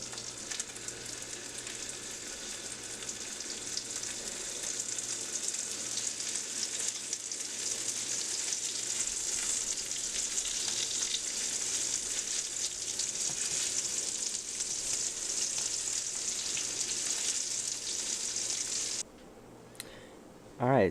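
Pork chops frying in a pan give a steady, bright sizzle that crackles continuously and close, while someone talks over it, until the sizzle abruptly cuts out near the end.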